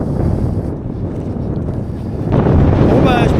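Gusty crosswind on an open road heading south roars and buffets against the microphone, a loud, steady rush that swells even stronger near the end.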